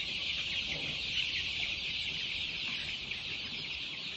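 Poultry farm chickens cluck and chatter in a dense, continuous flock, many birds calling at once from around the shed at a steady level, with no talking.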